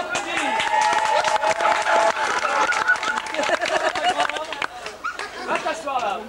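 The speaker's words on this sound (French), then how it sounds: "On l'applaudit." Audience at a 1995 cabaret show at a resort in Nianing, Senegal, applauding a performer: steady, dense clapping that keeps going throughout, mixed with crowd chatter and voices.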